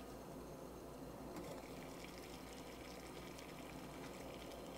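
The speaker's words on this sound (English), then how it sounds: "So 2 cups of water to a rolling boil in less than 9 minutes" Steady broadband rushing and bubbling of two cups of water at a hard rolling boil, continuous and fairly close, with no voices.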